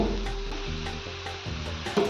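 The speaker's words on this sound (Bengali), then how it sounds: "গোল্ডেন ব্রাউন হওয়া পর্যন্ত এটা ফ্রাই করে নিতে হবে" Besan chila, gram flour pancakes, fry in a pan with a close, continuous sizzle and a few stirring or turning scrapes.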